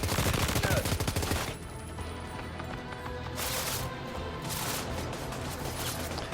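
Gunfire in the video game Death Stranding 2 opens with a rapid burst of shots, then gives way to a dense, noisy stretch of continuing game action.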